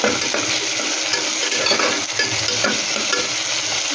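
Tomatoes and onions frying in a pan sizzle loudly and steadily while a spoon stirs and scrapes through them in repeated close strokes, with no talking.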